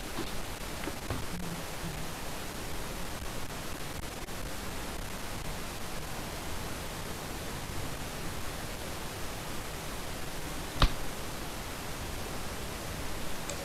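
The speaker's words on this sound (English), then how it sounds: "I think it's a fan's noise." A fan in the room gives a steady, even broadband hiss that holds unchanged throughout, with one brief knock near the end.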